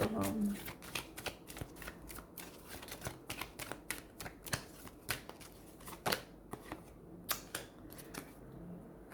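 A deck of tarot cards being shuffled close by, a rapid run of crisp card clicks and flicks throughout, with a voice speaking at times.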